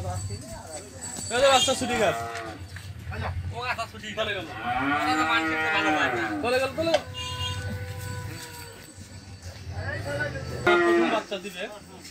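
A two-tooth Friesian dairy cow at a Bangladesh cattle market lows repeatedly, several drawn-out moos close by, interleaved with people talking and some background clatter.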